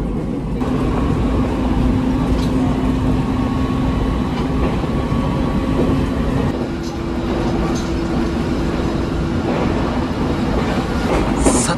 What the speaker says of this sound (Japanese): 列車は東青森駅を通過しようとしているところなんですが